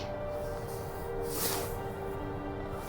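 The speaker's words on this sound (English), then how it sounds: "It's the sound of flowing water from" A steady broadband rush of a flowing mountain river and nearby waterfalls, continuous and fairly close, with a brief brighter hiss swelling near the middle and no voices.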